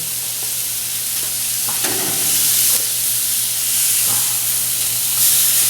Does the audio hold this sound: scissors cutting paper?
no